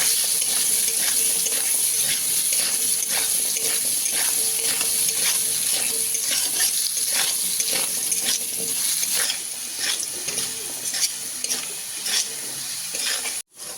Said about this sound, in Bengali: লবণ দেবো আর একটু হলুদ দিয়ে আলুটা ভেজে নেবো ভালো করে